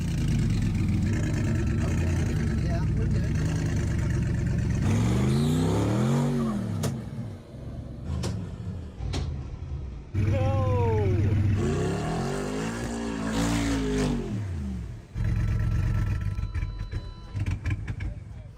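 Mercedes G63 engine on a near-vertical off-road slope, rumbling loudly with two sweeping rev surges rising and falling, a voice talking over parts, and a brief lull between the climbs.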